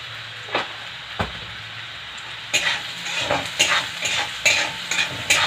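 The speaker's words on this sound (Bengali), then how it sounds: "ভালো করে নাড়িয়ে নেবো" A spoon stirs spiced food in a pan, quiet at first with a couple of sharp knocks, then a run of repeated scraping and clattering strokes against the metal over a light sizzle.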